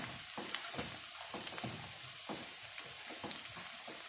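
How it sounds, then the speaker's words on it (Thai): Jasmine and riceberry rice deep-frying in hot oil, a steady close sizzle with scattered crackles and pops, no voices. "เรามาทอดกรอบนะคะข้าวนะคะ ข้าวหอมมะลินะคะไรเบอร์รี่นะคะ"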